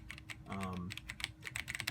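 Rapid typing on a Razer BlackWidow Ultimate Stealth mechanical keyboard with orange switches. The quiet, crisp key clicks run steadily throughout, with a brief voiced hum partway through.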